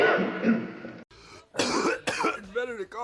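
Coughing in a movie scene, a few harsh throat-clearing coughs in quick succession, close and fairly loud, mixed with voiced sounds between them.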